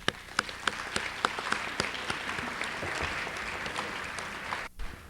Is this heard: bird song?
no